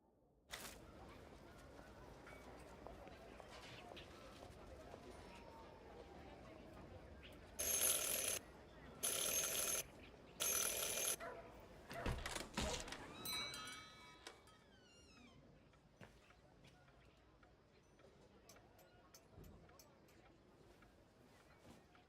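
A service bell rings three times in a row in the point-and-click game Syberia: The World Before, three loud, evenly spaced bursts standing out over soft game ambience.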